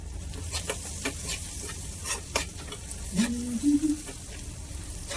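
Soft sizzling and crackling of spices and turmeric frying in hot oil for a tempering, with a few stirring clinks and scrapes, fairly quiet and close.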